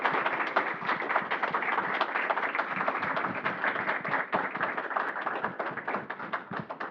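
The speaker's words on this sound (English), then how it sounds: "can I get one more round of applause for Anne Trépanier and this Palmer Lecture?" Lecture audience at a Palmer Lecture on Canadian Confederation history gives a steady round of applause, many hands clapping evenly at moderate distance and fading slightly toward the end, with no talking over it.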